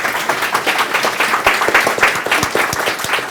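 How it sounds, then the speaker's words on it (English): An audience applauds a panel speaker at a sustainability careers event, giving a short, lively round of crisp, close clapping with distinct individual claps. "Round of applause for Daisy for us."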